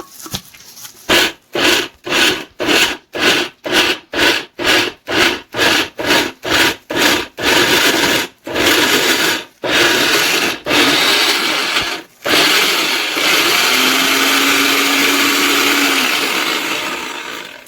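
Loud blender motor running in rapid bursts of pulses, then a long continuous whirring grind that slowly strains and settles as the blades spin free under clumped protein bar dough.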